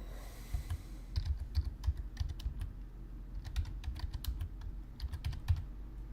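A computer keyboard clatters under steady typing, with quick bursts of keystrokes and short pauses, close and clear with no talk.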